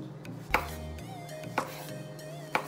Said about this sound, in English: And now we're just gonna slice the pieces.